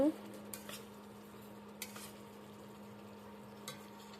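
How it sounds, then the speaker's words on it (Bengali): Meat cooking in a pot on an induction cooker while being stirred, with a faint steady hum under occasional soft scrapes and clinks of the utensil against the pot. "এখন আমাকে ইন্ডাকশানে রান্না করতে হচ্ছে তো রান্না করছি মাংস"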